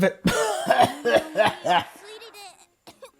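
A Corpse Party video game character coughs in a rapid series of about five voiced, throaty bursts, then gives a couple of fainter trailing coughs.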